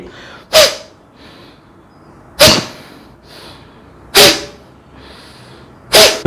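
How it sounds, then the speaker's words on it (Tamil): Forceful breath blown out hard through both nostrils in a sinus-relief exercise, four sharp, loud puffs spaced about two seconds apart with quiet pauses between, no talking. "ரெண்டு மூக்கு வழியாவும் வேகமாக வெளியே மூச்சை வெளியே விடுங்க"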